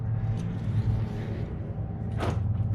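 A Jeep JL Wrangler door unlocking through a proximity entry setup: a single brief, fairly quiet latch clack near the end, rising out of a steady low background rumble.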